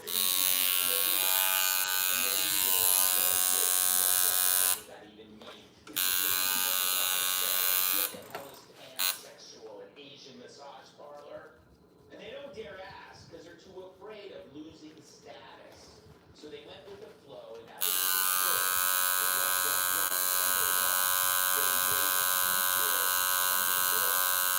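A rotary tattoo machine hums in a steady, loud electric buzz at the start and again at the end, with a quieter stretch in the middle where a voice talks over faint background sound.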